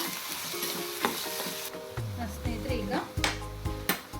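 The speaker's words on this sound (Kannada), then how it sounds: "ಇದು ಚೆನ್ನಾಗಿ ಫ್ರೈ ಆಗಬೇಕು. ಈರುಳ್ಳಿ ಗೋಲ್ಡನ್ ಬ್ರೌನ್ ಬರೋ ಮಟ್ಟ ನಾವು ಇದನ್ನು ಹುರ್ಕೊಳ್ಳೋಣ" Chopped onions frying in a tempering toward golden brown for a fish roe stir-fry, a steady sizzle with repeated spatula scrapes and metallic knocks against the pan, close by.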